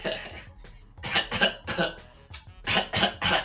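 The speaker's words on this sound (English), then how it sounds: "Sorry, I got a cough." A few harsh, bursty coughs in quick succession, close and fairly loud, with brief pauses between them.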